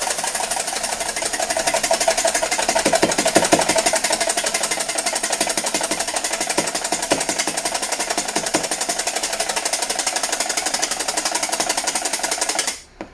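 Clafoutis batter with a pinch of salt is whisked by hand in a bowl. The scraping is fast, continuous and close, and it cuts off abruptly at the end with no voice over it.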